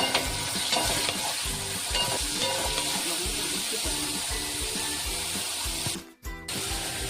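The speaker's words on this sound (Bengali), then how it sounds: "ডিমটা একটু ভাজা হয়ে গেছে, গাজরগুলো তুলে দিচ্ছি।" Carrots are added to the egg frying in ghee in a pan for vegetarian fried rice, giving a continuous close sizzle with steady rhythmic stirring scrapes and one brief break near the end.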